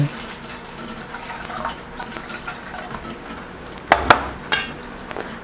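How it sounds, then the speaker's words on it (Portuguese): Ice-cold water, 240 grams, poured into 400 grams of flour for bread dough, making a soft splashing pour with a few sharper splashes near the end, close and fairly quiet. "vou colocar 240 de água gelada"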